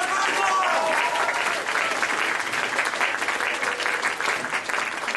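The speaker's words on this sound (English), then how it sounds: "Another round of applause for the Gophers" Sustained applause from a crowd at a furry convention closing ceremony, loud and steady throughout, with a few faint voices and whistles mixed into the clapping.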